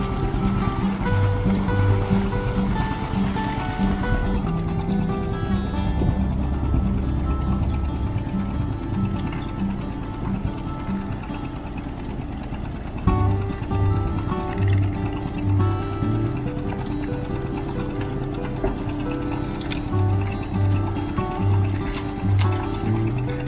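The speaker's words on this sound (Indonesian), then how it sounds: "kita lihat ada kapal nelayan yang sudah mulai bergerak untuk mencari rezeki atau berangkat untuk berusaha" Fishing boats leave a harbour at Tanjung Laut with a steady, loud low engine drone and some watery wash that runs the whole time, and no voices stand out over it.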